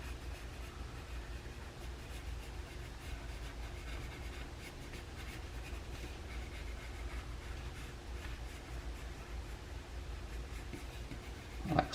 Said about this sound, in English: Just add some texture here and there with your shading pencil.